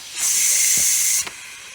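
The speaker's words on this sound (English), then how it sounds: "let the steam release, because you cannot open this top until the pressure is released inside" Steam hisses loudly from the pressure valve of a Ninja Foodi pressure cooker during a release after cooking a whole chicken, a steady broadband rush lasting about a second before cutting off abruptly.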